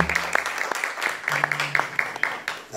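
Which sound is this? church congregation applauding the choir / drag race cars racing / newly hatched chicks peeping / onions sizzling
church congregation applauding the choir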